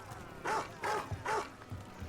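A dog in the fantasy video game Dragon Age: The Veilguard barks three times in an even rhythm, moderately close and clear, with no talk over it.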